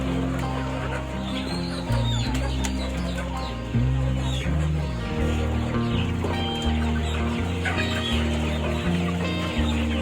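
KUB chickens in a coop cluck and squawk in a busy cluster, some fighting, steady and fairly close, with a few sharper calls rising over the continuous flock noise.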